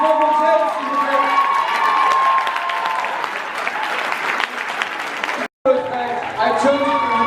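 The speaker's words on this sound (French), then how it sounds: "Est-ce que vous avez un applaudissement pour James, s'il vous plaît?" A convention panel audience bursts into loud applause and cheering for actor James Marsters, with shouts and whoops over the clapping, a brief cutout, then more crowd noise with voices.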